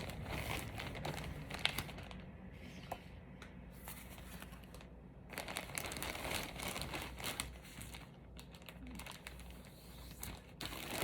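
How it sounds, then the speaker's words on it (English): Close, quiet crinkling of plastic in irregular bursts, as if a bag is being handled and stuffed. "I'm gonna put it all back in the plastic bag."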